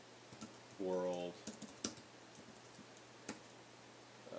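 Computer keyboard typing code, heard as soft scattered key clicks in a quiet room, with a brief tonal electronic sound near the start.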